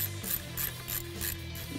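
A hand ratchet clicks in quick repeated bursts, snugging the bolts on a Roush supercharger bracket during installation on a 2015-2017 Mustang GT 5.0L, close and clear with no talking.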